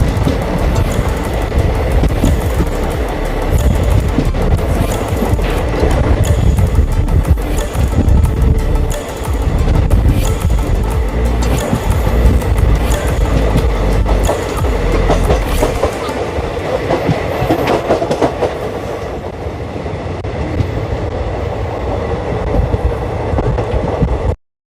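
The Farakka Express rolls along Indian rails while overtaking the Triveni Express, a loud, steady roar of wheels with rhythmic clickety-clack and rumble that continues without pause.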